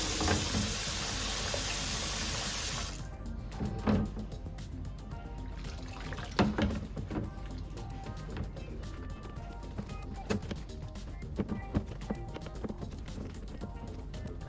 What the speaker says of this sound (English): We'll start as usual with a nice soapy bath.